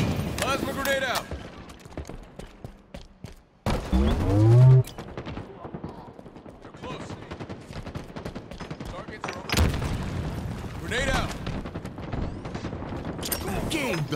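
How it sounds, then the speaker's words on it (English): Halo Infinite ranked Arena match with rapid gunfire bursts and a loud plasma grenade blast, dense and continuous up close, while game voice callouts sound over the combat. "Plasma grenade out."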